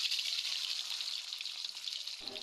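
Oil heats in a pan with a bright, continuous sizzle and crackle, close and steady, ending in a short low thump.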